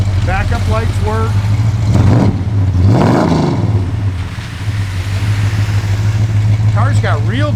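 A 1974 Plymouth Road Runner's engine runs loud and steady with a deep rumble, swelling briefly as it revs before settling back, while someone talks over it.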